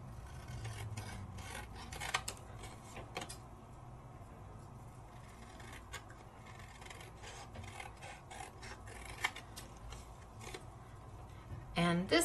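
Scissors or a trimmer cutting down an embossed paper craft panel, a soft rasping, rubbing sound with scattered short snips and a sharper clack near the end, heard close and fairly quiet.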